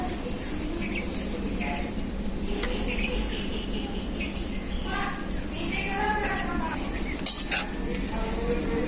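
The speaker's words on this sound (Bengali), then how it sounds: "এরপর আমি পাট শাকগুলো জলেতে দিয়ে দেব" Jute leaves drop into a little water in a hot wok, a steady sizzling hiss with faint rustling and a brief metallic clink near the end, all under a voice speaking.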